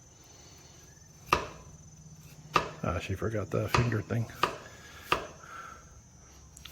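Knife chopping carrots on a board during preparation of a Thai pork dish with fried garlic, a quick run of sharp, close cuts amid a few louder single knocks, with brief talk.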